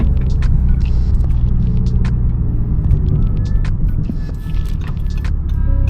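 An Audi TT idles on its old exhaust with a steady, loud, throbbing low rumble that holds constant and close throughout.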